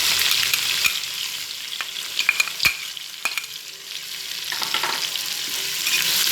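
Onions sautéing in a pan for kuska rice make a steady sizzle, punctuated by several sharp utensil knocks and scrapes against the pan, with no voices present.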